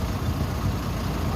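A Mercedes-Benz OH 917 medium bus with a Laksana Turista XL body idles with its engine running. A low, steady rumble with a slight throb sits close by without any voices.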